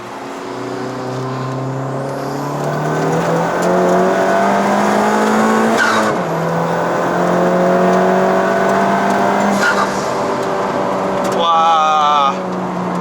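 A Honda Civic Type R FK2 with 380 horsepower accelerates hard on a Malaysian road, its engine rising steadily in pitch through the gears, dropping briefly at a quick shift and revving again, with a sharp high whine near the end.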